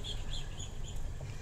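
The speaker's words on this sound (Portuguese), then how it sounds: "Olha aí, olha os pássaros." Birds chirp and call repeatedly in a late-afternoon park by a lagoon in Arraial do Cabo, Brazil, with bright twittering notes over a steady low outdoor rumble; no one speaks.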